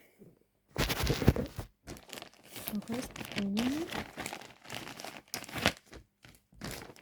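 Plastic packaging of a baby bottle warmer crinkles and rustles close by in uneven bursts, with a person talking over much of it.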